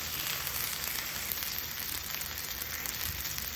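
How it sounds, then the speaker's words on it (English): Steak frying in a hot pan with butter, rosemary sprigs and garlic, giving a steady, close, loud sizzle with crackling spatters throughout and no voices. "As the steak cooks, you can baste it a bit"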